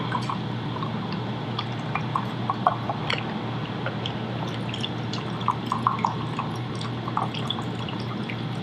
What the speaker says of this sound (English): And so we're gonna pour this in here.